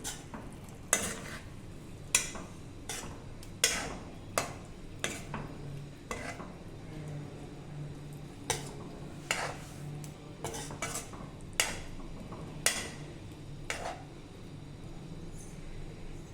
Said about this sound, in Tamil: பன்னீரை சேர்த்து ரொம்ப நேரம் குக் ஆகணுங்கிற அவசியம் இல்லை இப்போ லேசாக புரட்டி விட்டுக்கலாம்